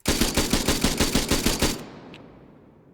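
A VK-78 rifle in an Arma 3 mod fires a rapid full-auto burst of about a dozen evenly spaced, loud shots, then cuts off into a short echoing tail.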